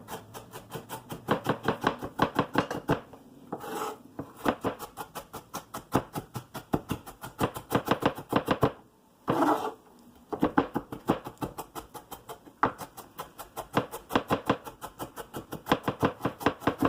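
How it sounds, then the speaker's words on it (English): A knife chops bell peppers on a cutting board in rapid, steady rhythmic taps, close and fairly quiet, continuing with a couple of brief pauses and no talking. "you have your eyes on the vegetables while you're chopping."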